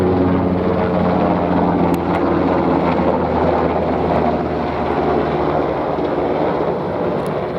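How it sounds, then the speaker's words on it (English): A Los Angeles Fire Department helicopter approaches for a direct overhead pass, its loud, steady rotor and engine drone filling the outdoor scene with low harmonic hum and some wind buffeting, no one talking. "Here we have a helicopter approaching for a direct overhead, looks like."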